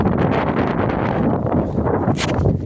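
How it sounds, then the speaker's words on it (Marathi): Continuous low rumbling buffets of wind hitting a microphone on a hill trek in Konkan, steady and close, with a brief hiss near the end. "वाऱ्यामुळे तुम्हाला ऐकायला येत नसेल."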